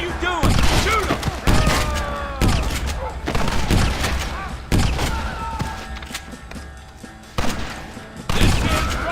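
A shootout in the Red Dead Redemption video game brings bursts of loud, close gunfire and fusillades that come in uneven clusters, with voices shouting among the shots.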